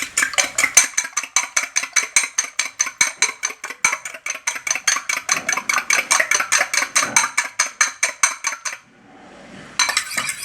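An egg scrambled in a pan for fried rice, a utensil clinking against the metal in a fast, even rhythm of loud close scrapes that stops briefly before starting again, with no talking.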